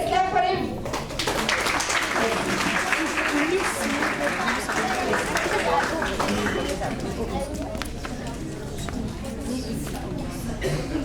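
Audience at an inter-school quiz event applauding the chief guest, sustained dense clapping with crowd chatter and voices mixed in throughout.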